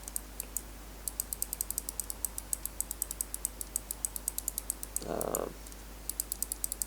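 Endgame Gear OP1 8k mouse switches clicked in a steady, fairly quick series of sharp, close clicks, with a brief gap and a short rustle before the clicking resumes.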